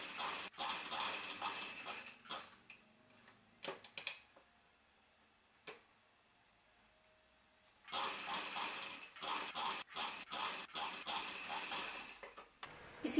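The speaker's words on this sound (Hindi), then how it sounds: "अब हम इसको सिलाई करेंगे।" Sewing machine stitching the folded shoulder and armhole seam of a cowl neck top, running in bursts of rapid mechanical clatter with a quiet pause in the middle.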